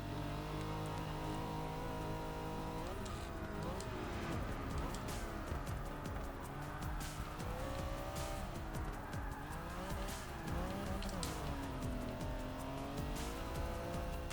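A race car in the Forza 6 video game drives hard, its engine revving up and down through gear changes with tire squeal and skidding throughout, loud and continuous.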